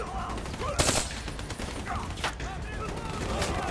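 Gunfire in Black Ops 3, a few sharp cracking shots standing out over a steady game-noise bed, with no voice talking.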